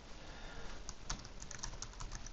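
Someone types steadily on a PC keyboard while filling in a school attendance register. The keys clatter closely and quietly in a quick, uneven patter, with no talking.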